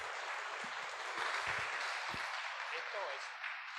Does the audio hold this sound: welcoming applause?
yes